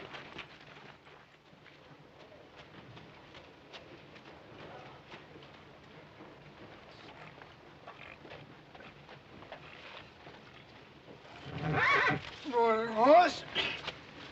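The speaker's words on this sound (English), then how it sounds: "Horse." A horse gives a loud, close whinny near the end, a rising and wavering neigh with a snort, after a long stretch of faint shuffling and low room noise.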